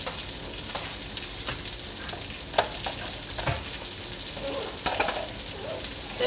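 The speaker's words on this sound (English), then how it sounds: "Just going to put some butter in the pan." Butter melting in a warm frying pan, sizzling in a steady crackling hiss with scattered pops and faint clatter, no voices over it.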